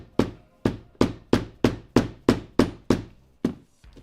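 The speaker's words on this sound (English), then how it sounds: "This time I'm hammering it before I cut it." Nine sharp, evenly spaced hammer blows on leather in a leathercraft workshop before it is cut, each a loud close thunk that decays quickly, followed by a softer tap at the end.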